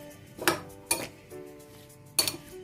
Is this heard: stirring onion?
yes